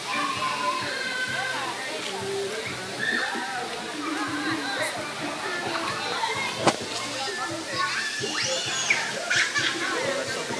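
Kids play and shout at a children's wading pool with a slide at the Águas Finas water park in Pernambuco, a dense lively wash of young voices and splashing water, with adults talking nearby.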